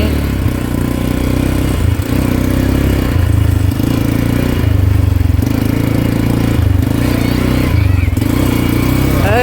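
A motorcycle engine runs steadily and loudly up close as it is ridden, a constant low drone with slight rises and dips and no clear talk.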